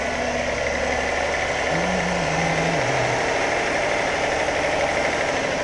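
An overheating Acura car engine idles with its coolant being topped up, a steady, loud, even mechanical hum and vibration with a faint tonal whine rising briefly midway, and no talking.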